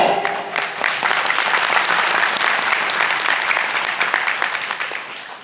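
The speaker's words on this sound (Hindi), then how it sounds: "तालियां बजानी है, दमदारी से बजाओ" An audience at a motivational speech breaks into loud, sustained applause, dense clapping that holds steady for several seconds before tapering slightly at the end.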